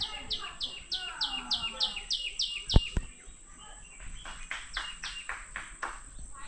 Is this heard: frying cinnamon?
no